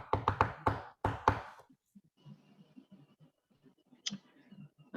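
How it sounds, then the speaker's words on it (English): Several sharp knocks on a door come in a quick burst at the start, followed by a second brief burst, then near silence with faint shuffling and a small thump. "Let me just say I knock at the door."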